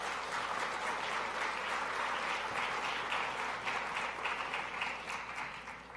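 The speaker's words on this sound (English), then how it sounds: "let's have a round of applause for Dr." Faint, distant audience applause on a college campus for Dr. Bazian, a continuous soft patter of many hands that holds steady and then begins to taper off.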